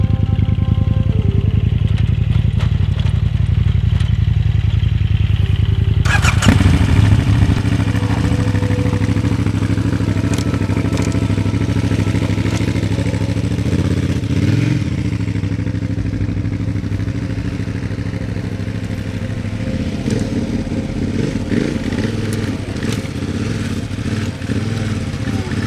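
A motorcycle engine runs continuously with a steady low, throbbing drone and clattery mechanical texture, shifting in tone after a few seconds as the bike rides through tight turns in sand.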